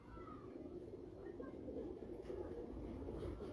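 A young pigeon on a rooftop loft gives soft, low cooing over a steady background murmur, faint and fairly close.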